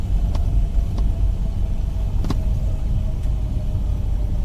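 Flysimware Cessna C24R engine in a flight simulator after touchdown, a steady low rumble idling along with a few faint clicks or rattles on top.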